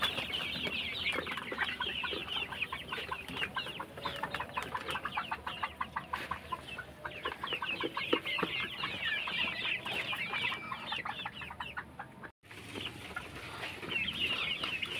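A flock of 52-day-old cock chickens on a poultry farm clucks continuously in dense, overlapping chatter, fairly close, with no talking.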